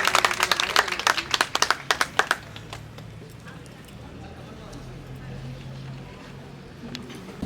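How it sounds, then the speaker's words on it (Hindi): Audience clapping at a press club ceremony honouring women journalists, a burst of several sharp claps in the opening seconds that quickly fades out, leaving quiet room tone. "जोरदार तालियों के साथ स्वागत कीजिए"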